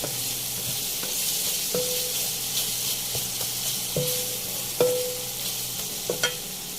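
Green chilies, some cut and some whole, fry and crackle in spiced oil for a spicy cluster bean dish, a continuous close sizzle broken by several sharp scraping strokes of a spoon stirring the pan.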